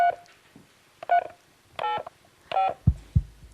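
Telephone keypad dialing tones on a TV quiz show, a handful of separate beeping tones spaced about a second apart, followed by two low thuds near the end.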